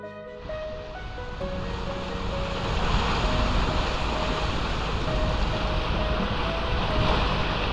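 A sailboat makes over 7 knots with the current on the St. Lawrence near Grandes-Bergeronnes, giving a steady rush of water and wind that swells slightly, with tonal engine or rigging hum beneath.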